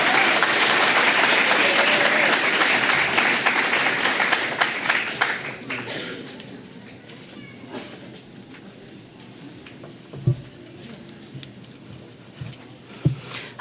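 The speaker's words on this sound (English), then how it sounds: "A round of applause for Leah Pryor-Lease" An awards ceremony crowd applauds loudly and densely at first, then the clapping thins and fades into scattered claps and room noise, with a few sharper isolated knocks near the end.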